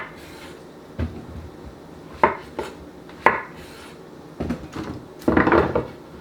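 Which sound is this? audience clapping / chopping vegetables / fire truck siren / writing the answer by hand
chopping vegetables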